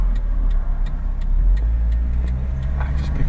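A 1991 Nissan Figaro's small engine hums steadily from inside the car while driving, with a low rumble and light ticking rattles, no talk.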